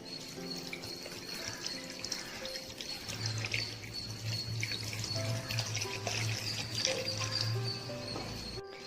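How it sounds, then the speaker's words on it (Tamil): Water pours steadily into a pressure cooker holding one kilo of mutton, a close, continuous splashing gush running the whole time, with a low humming tone joining partway through and no voices. "ரெண்டு டம்ளர் தண்ணி ஊற்றிக்கலாம்."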